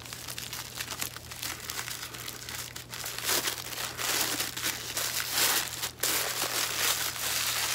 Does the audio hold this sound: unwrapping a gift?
yes